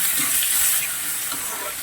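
Prawn gravy mixture stirred in a hot pan, a steady close sizzle with soft scraping strokes throughout, no voices.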